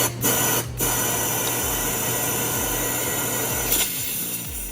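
A loud, continuous hiss of compressed air from an air hose spraying into a Nissan 350Z engine bay, with a couple of sharper bursts at the start and near the end.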